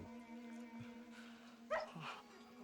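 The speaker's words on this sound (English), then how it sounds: "Oh, the dog." A dog barks briefly in a Naruto Shippuden anime episode, a couple of short yips heard faintly at a distance over a steady background music bed.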